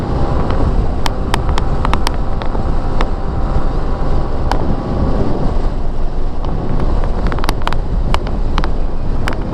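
Heavy, steady wind roar buffets the microphone on a Honda PCX160 ABS scooter held at top speed into a headwind, broadband and loud throughout, with a few sharp clicks and ticks scattered over it.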